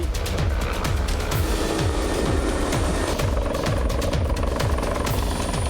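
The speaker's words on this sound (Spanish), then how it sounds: "se confirma que todo esté listo para recibir al helicóptero Bell 412 EPI" A Bell 412 EPI helicopter settles onto the deck of a moving ship, its rotor blades thumping in a fast, regular beat over a loud, continuous engine whine, close and unbroken throughout.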